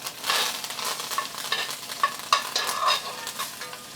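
Steak frying in a pan with butter, garlic cloves, shallots and thyme sprigs, giving a close, steady sizzle with occasional stirring or basting scrapes and no talk.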